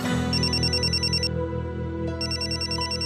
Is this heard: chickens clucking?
no